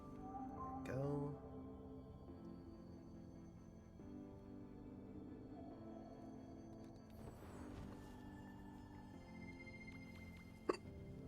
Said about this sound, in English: Oh, I have the hiccups.